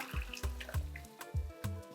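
Sieved cooking liquid is poured into a pot of rice in a kitchen, with a run of soft, rhythmic glugging splashes, close and fairly loud.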